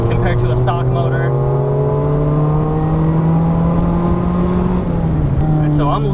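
A supercharged Mazda Miata engine pulls hard on a mountain touge road, its steady rising drone climbing in pitch across several seconds before a brief dip near the end, loud and close from inside the car.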